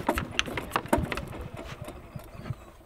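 A small engine keeps idling on its own after the key has been switched off, a close, uneven putter of irregular knocks and pulses that carries on for a few seconds.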